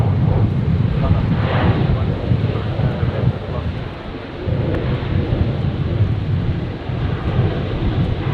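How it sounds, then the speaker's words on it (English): Virgin airliner arriving from Melbourne and touching down at Brisbane airport, a loud, sustained rumbling roar with heavy wind noise and radio voices over it. "Virgin 327, touching down from Melbourne"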